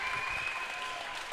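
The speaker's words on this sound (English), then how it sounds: "Give him a round of applause." Crowd applause at an amateur and pro MMA fight card in Ohio, a short steady burst of clapping filling the venue, with a faint sustained tone running underneath.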